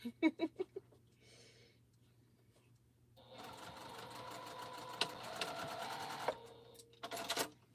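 A sewing machine stitches a quilt seam on an African map quilt, starting after a few soft taps and running in a steady mechanical whir for several seconds, close and moderately loud.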